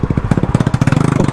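A KTM Duke 250 motorcycle engine runs under way while riding, close and loud, with rapid, even firing pulses and a rattly, buzzing exhaust note that quickens slightly toward the end.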